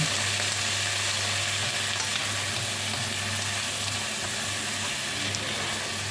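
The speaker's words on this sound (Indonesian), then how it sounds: "Aduk-aduk hingga semua bumbu tercampur rata ya" Loud, continuous sizzling in a hot pan as soy sauce and seasonings are stirred together, steady throughout with no talking.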